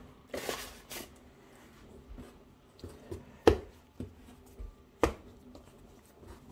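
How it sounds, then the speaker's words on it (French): Knife cutting dough for meat turnovers, a series of sparse, faint taps and snaps against a board, irregularly spaced, with two sharper cuts standing out in a quiet kitchen. "Allez, on va couper."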